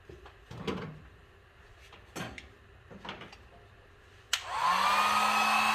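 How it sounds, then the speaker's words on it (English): A Harbor Freight heat gun switched on at low speed while working on an MGB wire nipple connector, kicking in abruptly after a few quiet handling clicks and then blowing with a steady, loud airy whoosh and a low motor hum. "And then get the heat gun on there. Let's get the heat gun."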